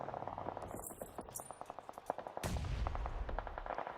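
Gunfire and grenade blasts from a PUBG Mobile esports match: a quick run of sharp shots at an even pace, then a heavier rumbling burst. All of it sits fairly low in the mix, with no talking.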